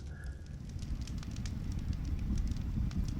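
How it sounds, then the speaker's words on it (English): A campfire burns in the Ojito Wilderness, giving a steady low rumble with scattered soft crackles and pops, moderately close and continuous with no talking. "Fire's feeling really nice"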